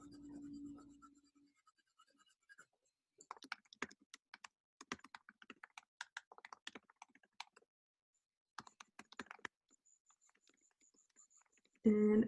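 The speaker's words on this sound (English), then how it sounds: "I'm just gonna keep adding values using the side of my pencil." An orange colored pencil is shaded across paper using the side of the lead, giving bursts of soft, dry scratchy strokes with short pauses between them; a faint voice sounds briefly at the start and end.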